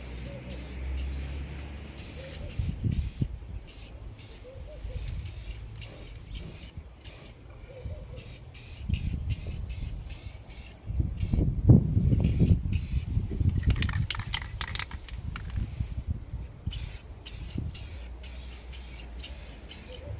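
Spray bursts coat a Ford Figo headlight during a second pass, a series of close, loud hissing sprays in short rhythmic pulses, with a longer sustained burst partway through.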